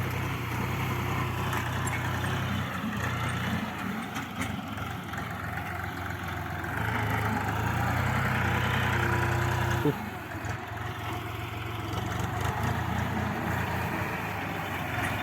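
Shifeng SF 244 C tractor engine running steadily while hilling potatoes with a Bomet ridger, a continuous low rumble that holds level throughout with a brief change near the middle.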